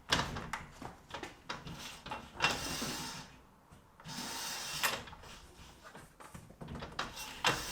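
A soft-close kitchen cabinet door being opened and closed repeatedly, giving soft thumps, slides and brief mechanical clicks in an irregular rhythm, close by and fairly quiet.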